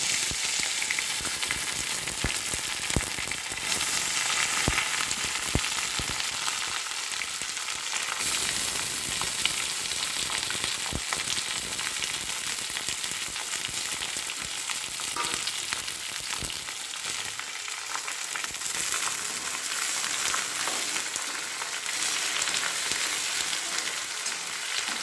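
Two large chopped onions fry in a pan for an upma, giving a loud, continuous close-up sizzle with crackling and occasional stirring clicks, no talking over it.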